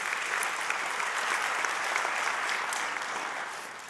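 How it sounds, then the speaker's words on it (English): Church congregation applauding together, a steady dense wash of many hands clapping at once that holds level for a few seconds and then begins to thin and fade at the end, with no voices over it. "That's worth another clap."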